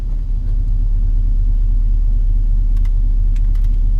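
A 1998 GMC Sierra with its exhaust cutouts open idles in traffic, giving a steady, deep, loud rumble heard close up, with a few faint clicks over it.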